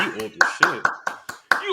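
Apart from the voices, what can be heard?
applause clapping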